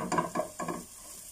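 Garlic sizzles in a hot pan for Filipino-style vermicelli, with several bursts of stirring scraping through the frying about three times in quick succession, then a quieter simmering tail and a final clatter.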